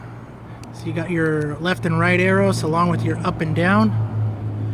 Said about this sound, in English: please excuse the traffic noise